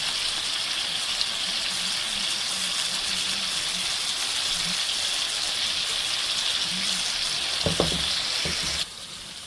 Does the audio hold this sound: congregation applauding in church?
no